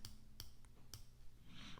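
Watch bezel being turned, a few sharp, crisp clicks spaced irregularly, close and quiet against a near-silent background.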